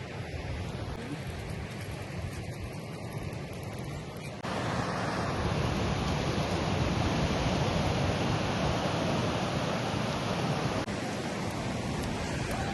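Large sea waves on the Spanish coast, a continuous broadband roar of surf with heavy wind buffeting the microphone, growing louder partway through and staying loud to the end.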